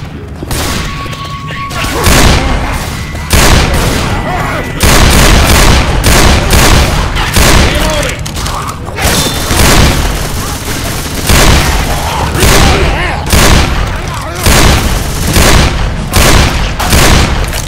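A pipe bomb and gunfire erupt in a Left 4 Dead-style zombie shooter on the Dead Air map, with loud, close bursts of rapid shots and heavy booming blasts repeating throughout.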